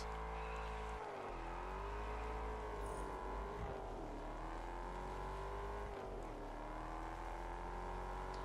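A Ford Mustang GT350R in the racing game Test Drive Unlimited Solar Crown holds a loud, continuous engine note that rises and dips through several rev changes, with brief drops around gear shifts and no talk.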